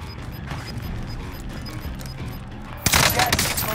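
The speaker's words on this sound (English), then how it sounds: "They're shooting me. I'm under fire." Gunfire in Call of Duty: Modern Warfare erupts suddenly after a stretch of low battlefield rumble, a loud dense burst of rapid shots near the end.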